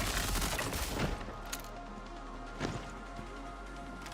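Suppressing gunfire in the Star Citizen game comes as a loud burst of rapid shots at first, then scattered single reports and impacts over a low rumble.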